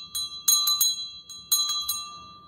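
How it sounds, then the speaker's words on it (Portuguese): A collectible hand bell is shaken in two bursts of quick, bright rings, each strike leaving a clear metallic tone that lingers and fades in a quiet room. "Olha esse outro sino aqui também, ó."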